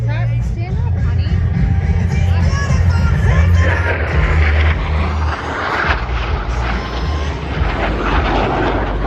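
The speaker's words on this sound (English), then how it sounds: "It's another flyover." Blue Angels jets flying over an airshow at Greater Binghamton Airport, a loud sustained engine roar that swells and fades while an announcer talks over a crowd.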